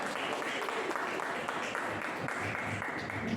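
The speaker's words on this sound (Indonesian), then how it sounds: "Berikan aplaus untuk kelompok 5." Clapping from a classroom audience for a student group after a pharmacology lesson presentation, a steady wash of many hands that carries on through the whole stretch.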